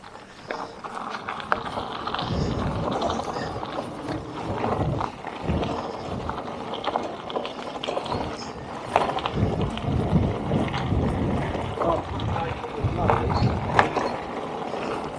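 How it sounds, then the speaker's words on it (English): Mountain bike rolling down a hill trail in Cwm Dare, Wales, with steady rumbling tyre and gear noise, rattles and wind buffeting throughout, fairly loud and close. "So here we are at the top of the hill, about to ride down."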